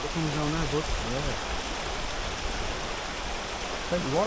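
Continuous broadband rush of a mountain stream in the Cheviot Hills fills the scene, with a voice speaking briefly near the start and again at the end.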